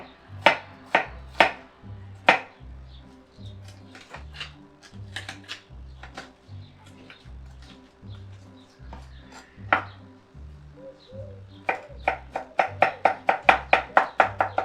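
Knife chopping tomatoes for a tomato salad on a cutting board, a run of sharp close taps in bursts with pauses, speeding into a quick steady rhythm near the end, over a low background hum.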